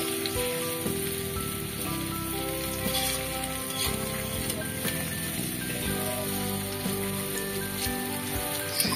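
Palm fruit fritters (taler bora) fry in oil over a low flame, giving a steady, dense crackle and sizzle that continues throughout without a break, with no talking.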